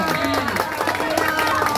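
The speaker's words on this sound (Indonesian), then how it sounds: "Tepuk tangan untuk Sabil." Applause for a student candidate, Sabil, at a school democracy session at a special-needs state school in Batam: dense, steady crowd clapping fills the short stretch, with voices mixed in.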